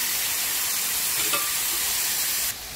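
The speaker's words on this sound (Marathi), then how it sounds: "आता आपण कांदा टोमॅटो फ्राय करायला टाकूया" Onion and tomato frying in oil in a pan for an egg keema dish, giving a steady, close sizzle and hiss that holds throughout and drops off slightly near the end, with no voices.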